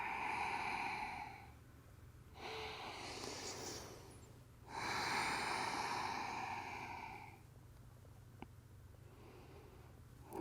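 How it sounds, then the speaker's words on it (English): Deep breaths during a yoga forward fold, slow audible inhales and exhales through the nose in a calm, quiet room, a few long breaths spaced several seconds apart, close and fairly soft. "we inhale, slightly lift, and exhale"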